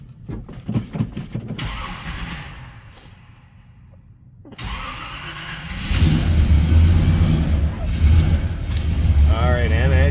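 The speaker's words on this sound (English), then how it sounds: "This is just a customized cool car that's fired up." A 1966 Chevrolet Impala wagon with a 396 big-block V8 cranks and fires up, then settles into a loud, deep, rumbling idle. Someone speaks over the engine.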